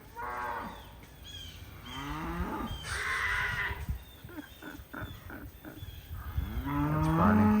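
Several cows in a herd moo in long, drawn-out calls, some near and some farther off, with farm animal noise filling the gaps between them.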